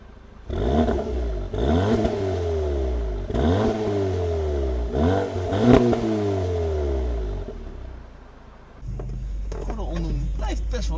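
A 2017 Audi TT Roadster's engine revs up repeatedly in short, rising bursts heard from inside the car, each climb and drop distinct, followed by a quieter idle with some mechanical clicks near the end.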